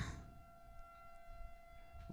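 Tornado siren sounding outside, a steady sustained wail with fixed tones that holds through the whole stretch, at moderate distance under room and wind noise.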